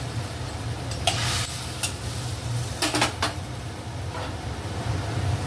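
Bori lentil dumplings go into a hot pan of spiced kochu stems with added water. A few sharp clattering knocks rise over a continuous soft sizzle.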